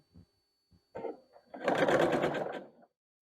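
Close by, a sewing machine stitches quilt block pieces for a barn star block: a few short taps, then a brief whirring run of needle strokes that stops abruptly.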